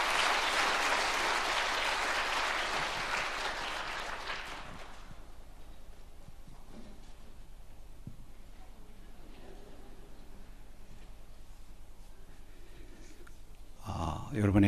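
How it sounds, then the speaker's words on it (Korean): Congregation applauding in a Seoul church, a full burst of clapping for about five seconds that fades out, then quiet room noise with a few faint shuffles and a brief clatter at the end. "우리 축복하는 박수 해 주시기 바랍니다"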